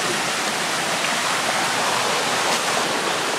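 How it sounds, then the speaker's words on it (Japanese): Rushing water fills the air in a constant, dense roar, a mountain stream tumbling over a waterfall close by at Kurokuma Falls in the Shirakami Mountains, Aomori, Japan. "渓流が素晴らしい。"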